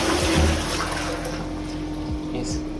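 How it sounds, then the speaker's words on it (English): A push-button toilet in a Cancun resort hotel suite bathroom flushes with a steady, loud rush of water that runs through the whole stretch, along with a constant hum. "this right here is how to flush the toilet"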